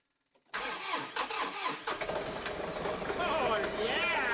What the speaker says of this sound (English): Come on, warm up. It's a cold one for the tractor.